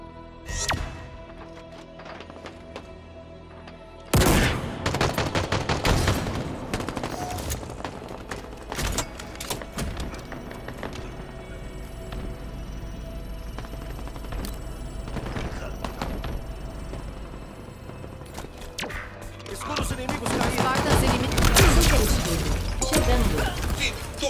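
Rapid bursts of gunfire and shattering impacts fill a Halo Infinite multiplayer match, loud and continuous for much of the span, with game announcer voices talking over it.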